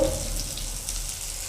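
Ground green pea paste with ginger, green chili and coriander fries in a wok, giving a close, steady sizzle and crackle across a brief moment, with no one speaking.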